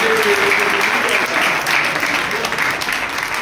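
A church congregation at a Sunday service claps together in a dense, steady roar of hand claps that lasts throughout, with a voice faintly audible over it.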